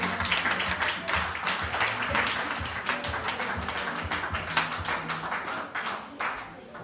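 An audience at a high school graduation ceremony claps steadily for the student speakers, a dense, continuous patter of many hands filling the hall with sharper individual claps standing out.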